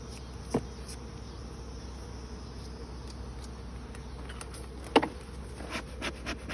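Honey bees swarm around a hive being smoked for honey harvesting, a dense continuous buzz close by, broken by a couple of sharp wooden knocks and light handling noises.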